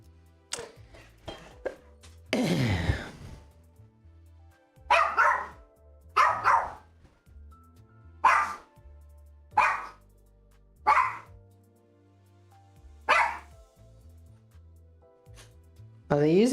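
A dog barks repeatedly in distinct bursts spread over several seconds, fairly close and loud, with occasional talk and game sounds around it.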